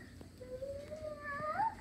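A single drawn-out cat meow rising and wavering in pitch, fairly faint and close, in a quiet room.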